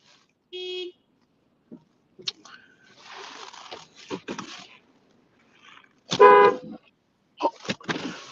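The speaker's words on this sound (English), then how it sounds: "I'm parking my car. She's beeping at me." Short car horn beeps sound near a car being parked, one clear toot early on and a louder, longer honk later, with people talking in between.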